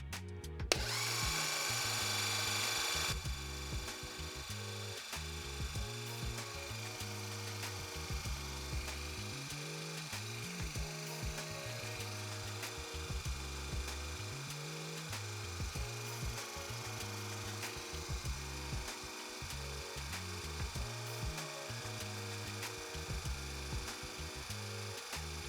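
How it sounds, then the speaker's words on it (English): A VEVOR 5-ton electric car jack raises a car at the pinch weld, a steady mechanical motor drone with rhythmic grinding pulses that carries on continuously, after a brief brighter burst at the start. "now that the jack is lined up with your pinch weld, go ahead and push the up button to lift it"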